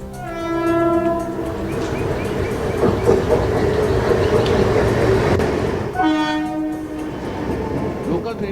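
Mumbai suburban local train running loud and close, with harmonic horn blasts at the start and again near the end over a steady rumble of wheels and carriages.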